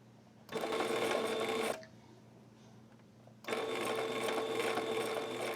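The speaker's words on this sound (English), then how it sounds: "And you just keep sewing and make sure everything stays lined up." A sewing machine stitching a narrow hem along a curved sleeve runs in two steady whirring bursts of about a second and two seconds, separated by a short pause, close and clear.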